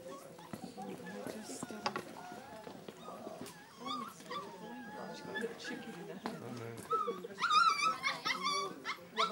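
A dog whimpers and yips in short, high bursts, growing louder and more frantic toward the end, with voices talking faintly alongside.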